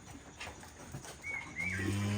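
Cow lowing in a village setting, a single drawn-out low moo that swells toward the end, fairly close and alone with no voices.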